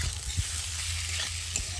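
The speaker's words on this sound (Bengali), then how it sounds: "আলুর সাথে বেশ মশলাটা ভালোভাবে কষিয়ে নিয়েছি" Potatoes and spices stir-fry in a pan, giving a steady close oil sizzle broken by a few soft scrapes and knocks of the spoon.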